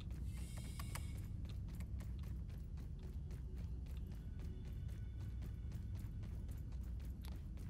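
Door mechanism opening in the video game Grounded, activated with an assistant manager key card: a steady run of mechanical clicks and ratcheting gear ticks over a low rumbling hum, with a brighter burst of whirring at the start.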